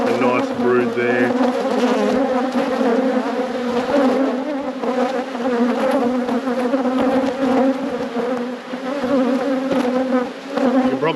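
Honeybees swarm close during a robbing event at an opened hive, their loud, dense buzzing a steady layered drone with shifting pitches from individual bees passing near, and no talking.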